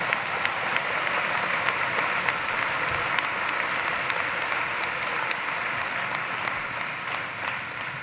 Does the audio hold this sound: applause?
yes